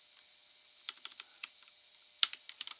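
Keys on a computer keyboard are tapped in short, quiet bursts of crisp clicks, with scattered single strokes and then a quicker run of typing near the end, in a quiet room.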